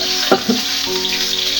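An egg fries in a hot pan, a close, continuous sizzle with a couple of brief stirring or scraping touches near the start.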